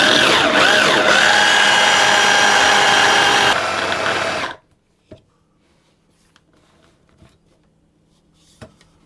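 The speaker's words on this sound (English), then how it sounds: "I'm then going to process this until it forms a paste" Food processor blending Viennese whirl mixture into a paste: a loud, steady motor whir for about four and a half seconds that cuts off abruptly, followed by faint clicks and light handling sounds.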